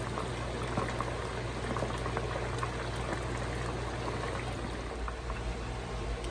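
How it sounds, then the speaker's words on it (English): Continuous loud sizzling and bubbling of hot oil as chicken feet deep-fry, a dense steady crackle with no talking. "I'm just deep frying it right now."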